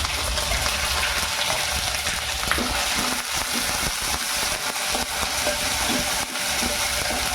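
Chili, ginger and garlic paste frying in a pan for tuna biryani, a steady dense sizzle running throughout with faint stirring scrapes, close and fairly loud, no talk.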